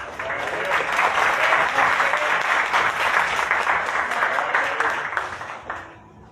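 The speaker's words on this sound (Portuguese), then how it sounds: "nós vamos aplaudir recebendo o pastor Jadir" A church congregation at a missions service applauds to welcome a pastor, a sustained dense clapping that holds steady for several seconds, then fades out near the end.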